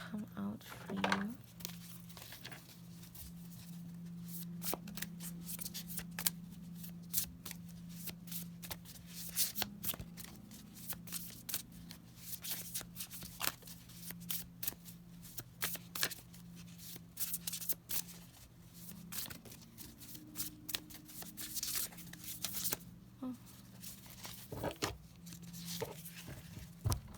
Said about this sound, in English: they're so difficult to shuffle. Oh my goodness, these big cards.